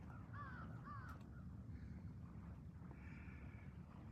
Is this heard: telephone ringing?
no